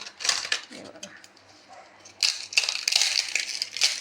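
Crispy fried jowar flour dhapode crunch and crackle as they are broken up close by, in a few bursts with a brief quiet gap, fairly loud.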